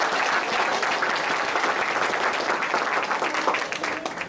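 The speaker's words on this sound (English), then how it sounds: "another large round of applause for Turkish Airways and their donation to this contest" Audience at a school art and essay contest in Seoul applauds an event sponsor with steady, full clapping from a sizable crowd, tapering off at the end.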